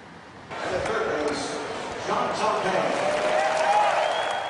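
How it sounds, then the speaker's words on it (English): A baseball crowd at PNC Park gives a standing ovation for a home plate umpire at a pre-game ceremony, with sustained applause and cheering that swell louder partway through, heard at a distance. "getting a standing ovation and loud cheers from fans at PNC Park"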